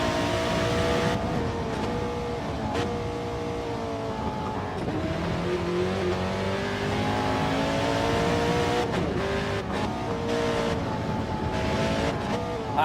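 A race car in Gran Turismo 7 during practice holds a loud continuous engine note that rises and falls with shifting pitch as it revs through corners, with a faint tire squeal now and then.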